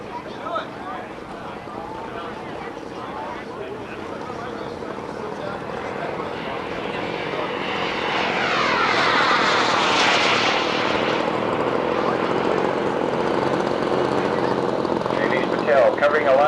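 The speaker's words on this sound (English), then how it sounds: "The turbine engine runs on JP4 or kerosene." Kerosene-fuelled model jet turbine aircraft flying at a scale model flying contest, a rising whooshing engine roar that builds and sweeps past, then holds steady.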